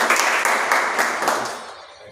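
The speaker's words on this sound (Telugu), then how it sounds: "వారికి చప్పట్లతో స్వాగతం" A crowd at an Adivasi rights meeting claps to welcome Naresh on his appointment as media in-charge, with a burst of applause that gradually fades away.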